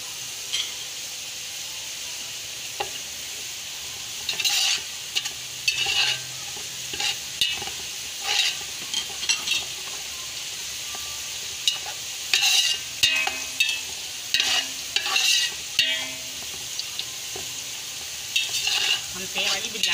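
Onions fry in oil for biryani, turning light golden, with a constant loud sizzle and hiss and repeated scraping, clattering stirs at an irregular pace.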